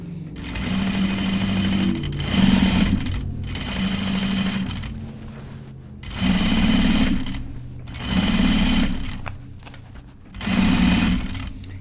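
Sewing machine stitching a pair of men's Jutland pants, running in steady motorized bursts of a few seconds each with short pauses between, loud and close.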